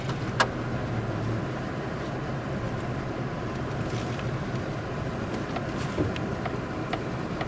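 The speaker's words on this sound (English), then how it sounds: "I'm getting ferried in by four-wheeler" A four-wheeler engine drones steadily as it carries a rider through a snowy winter outdoor setting, a continuous low rumble with a few faint clicks and rattles, no talking.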